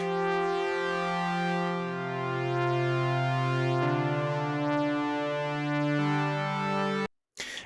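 Layered synth voices sustain a chord through a Guitar Rig 6 chorus set to narrow stereo width, with a subtle shimmer and slight phasing sweep, then cut off abruptly near the end.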